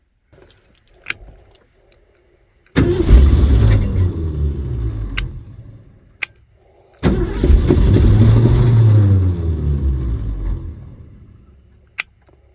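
Ford Mustang with a swapped ignition switch: keys jangle briefly, then the engine cranks and runs for a few seconds, stops, and cranks and runs again in a longer loud burst, with a few scattered clicks around it.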